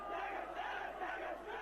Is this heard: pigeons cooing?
no